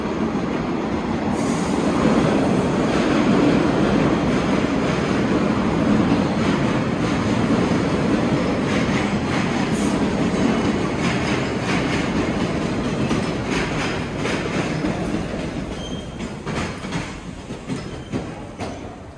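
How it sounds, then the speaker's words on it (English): A train arriving at a station rumbles loudly and steadily with rolling wheel noise and faint squeals, staying close for most of the stretch before easing off slightly near the end. "Here's another train arriving."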